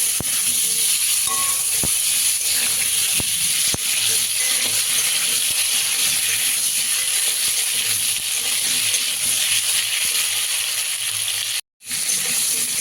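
New potatoes and young kohlrabi frying in oil, a loud, dense, continuous sizzle with occasional faint clicks that cuts out abruptly near the end.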